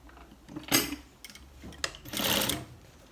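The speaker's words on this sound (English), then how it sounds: "I'll sew yokes to the back parts, back trouser legs." A sewing machine runs in short bursts while yokes are stitched onto the back legs of cargo pants, with a quick whir, light handling clicks between, and a longer steady run near the end.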